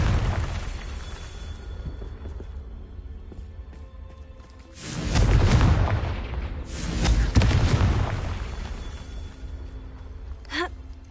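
Spell-casting explosion from a fantasy video game, a Confringo blast: a loud booming burst around the midpoint followed by a second rumbling surge, rising out of a low background hum, with a brief whistling tone near the end.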